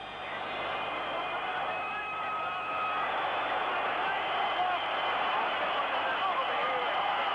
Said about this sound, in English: The crowd's going quite frantic, but the game isn't over.